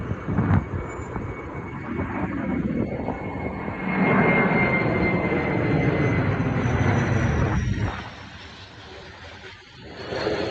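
A firefighting air tanker drones overhead while circling, its engine roar swelling and fading as it passes, loud and sustained without talk.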